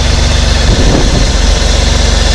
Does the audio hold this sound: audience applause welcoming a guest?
no